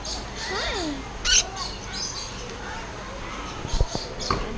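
Lories and lorikeets chirp and call in short, bright bursts while being fed, close by, with a person talking softly over them.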